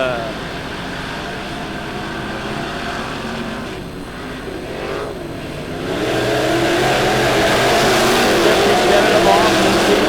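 Dirt track race cars racing at Lebanon Midway Speedway, their engines droning and rising into a louder roar as the pack accelerates past, with a track announcer talking over the noise.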